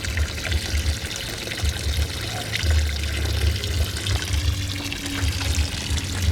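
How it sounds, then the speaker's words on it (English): Filtered water from a small garden pond's UV and primary filtration system trickles and pours back into the pond, a close, continuous splashing flow with a low rumble, steady throughout and without speech. "This water trickling back in has gone through this primary filtration and the UV light and then goes back into the pond"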